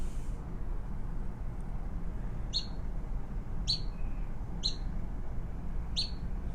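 Nuthatch calls in western ponderosa pine country: four short, high chip beeps spaced about a second apart, thin and clear over a steady low outdoor rumble.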